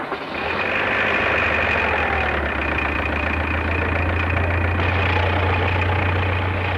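A car engine runs with its transmission mounted during a gear-shifting demonstration, a steady close idle drone with a low hum throughout and no clear shift clunks.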